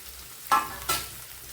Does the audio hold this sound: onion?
yes